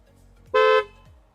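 A single short Tesla Model 3 horn honk, loud and close, sounding for about a quarter second against a quiet background.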